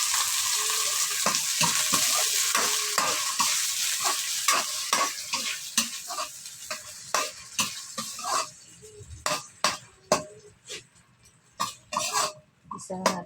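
Sardines are stirred into a frying pan of sautéed onion and garlic, sizzling steadily while a spatula scrapes and clacks in irregular bursts, the frying hiss thinning out toward the end as sharper stirring knocks stand out.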